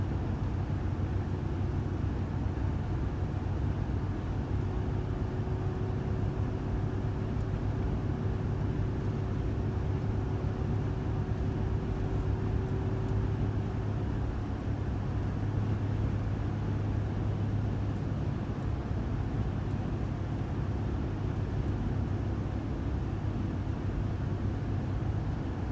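Cabin noise fills the inside of a car cruising along a highway at about 50 mph, a steady low road and engine drone with a faint hum that holds constant throughout.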